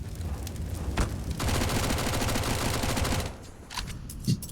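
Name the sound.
player emptying a magazine of gunfire in video game CS:GO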